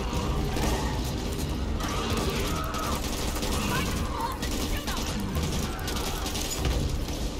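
Dense, continuous gunfire and mechanical clatter from the co-op zombie shooter Back 4 Blood, loud and unbroken, with players talking over it.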